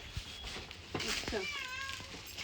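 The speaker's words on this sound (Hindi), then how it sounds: "लो बिल्ली भी साथ लेके आए हूँ।" A cat meows several times with rising, wavering cries, close by, while a couple talks over it in a home setting.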